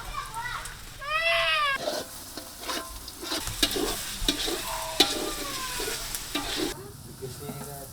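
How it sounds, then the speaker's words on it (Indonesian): Bee larvae and honeycomb sizzle and are stirred into cooked spices in a pan, with scraping stir strokes and frying hiss under intermittent voices and children's chatter nearby. "Anak dan sarang lebah langsung dicampurkan saat bumbu sudah matang dan dimasak sebentar."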